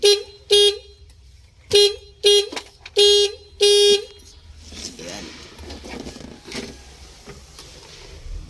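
A car horn under wiring repair honks five times in short, uneven blasts, loud and close, followed by quieter mechanical clatter and rustling.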